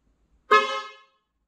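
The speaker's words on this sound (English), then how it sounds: "And that's how you honk the horn on the Tesla." A Tesla car horn, set off by a voice command, gives one short, loud honk that fades quickly, with silence before and after.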